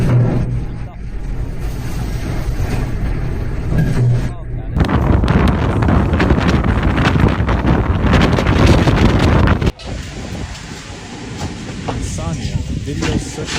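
Typhoon Matmo's strong wind roars and buffets the microphone in loud, continuous gusts, dipping briefly before surging again.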